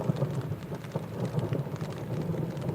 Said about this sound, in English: I'm getting the first little pelting of rain, and been hearing distant thunder for a while, but now we've got some rolling overhead.